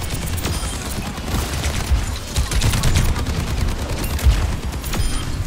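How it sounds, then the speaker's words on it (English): Dense gunfire from the Overwatch 2 video game, a steady rapid stream of shots with heavier booming hits, loud and continuous throughout with no talk. "why is teammate shooting me"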